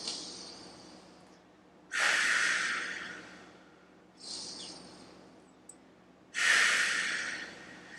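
Two slow, deep breaths held during a spinal extension exercise, each a long airy inhale followed by a softer exhale, close to the microphone in an otherwise quiet room.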